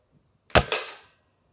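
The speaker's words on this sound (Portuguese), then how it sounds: "Primeiro disparo, um pouco mais para baixo," A single sharp shot from a Rossi Dione 4G gas ram air rifle firing a pellet, a quick crack followed almost at once by a second impact snap on a small kettle target, then silence.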